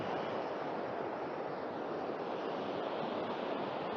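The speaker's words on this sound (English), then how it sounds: "And that is quite the cascade." Fast-moving water rushes down a cascade in Bechler Canyon in Yellowstone, making a constant, dense roar that stays steady throughout and fills the whole clip.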